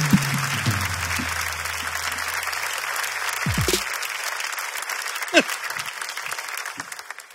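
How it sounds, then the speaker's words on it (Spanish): A studio audience at a Spanish-language comedy talk show claps and cheers in a steady, dense burst, with a low musical tone fading at the start and scattered voices near the end. "un fuerte aplauso para Yo Escojo Mis Hobbies"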